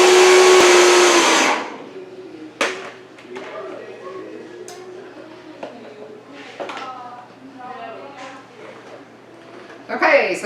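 A kitchen blender roars at high speed in a loud steady whir, then cuts off, leaving scattered clinks and speech-like sounds.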